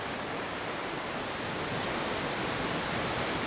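Powerful waterfalls in a deep Oregon canyon swollen by winter snowmelt, heard as a steady, dense roar of rushing water filling the whole clip without a break.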